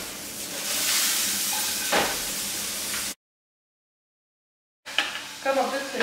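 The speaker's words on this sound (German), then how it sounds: "Also Tomaten rein in die Pfanne," Tomatoes sizzling and spitting in hot oil in a frying pan, a loud steady crackling hiss that cuts out briefly and then resumes with stirring clatter.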